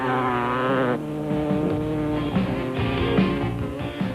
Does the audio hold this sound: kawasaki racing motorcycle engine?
yes